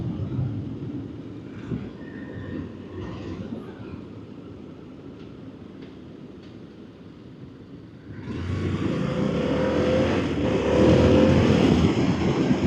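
A 2025 Harley-Davidson adventure or naked sport bike on a test ride, its engine droning steadily before swelling into a louder, sustained acceleration with wind rush; no one speaks.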